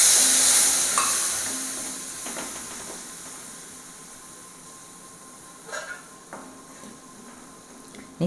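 Water splashes into a hot pan of tomatoes and spices for a bitter gourd curry, bursting into a loud hiss of steam that slowly fades, with a few light spoon scrapes of stirring toward the end.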